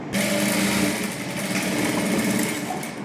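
A sewing machine stitches folded silk skirt fabric for a child's half saree, a continuous close motor whir held steadily for a few seconds with no speech.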